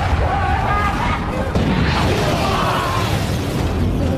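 A bomb explodes amid falling objects in a story recap, a loud sustained roar of blast and clattering debris that fills the whole stretch, close and dense, ending abruptly.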